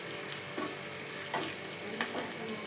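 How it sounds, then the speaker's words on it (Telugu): Turmeric frying in a pan and being stirred side to side, a continuous close sizzle punctuated by a few scraping strokes of a spoon, with no voices. "కొంచెం పసుపు వేసుకొని కొంచెం అటు ఇటు వేయించుకోవాలి."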